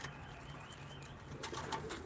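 Pigeons coo at a pigeon auction in Ankara, soft low murmuring calls close by with a few brief sharper sounds, quiet and continuous.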